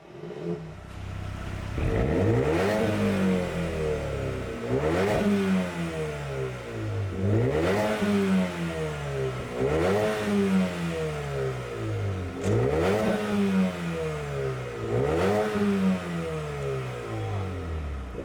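A Brabus B35S tuned Mercedes-AMG A35 with exhaust valve control is revved repeatedly in a steady cycle of about seven sharp blips, each climbing and falling, loud and close with no talk.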